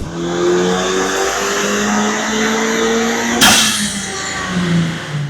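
A Honda Civic Type R (FL5) engine fitted with an Eventuri intake filter revs up loudly nearby with a rising intake roar, then a sharp crack as the revs drop back down.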